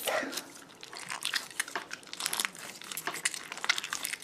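Crunchy slime with glass beads gets squished and pressed close up, giving a string of soft crackling, crinkling pops at low volume.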